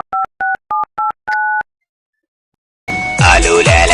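Five short, evenly spaced tones of a telephone keypad sound as a number is dialled on a phone, then a pause, then a louder burst of noise and sound from the line.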